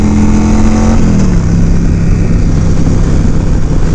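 A Yamaha V Star 1100 Custom motorcycle engine rumbles loud and close, holding a steady note before its pitch drops as the revs ease off.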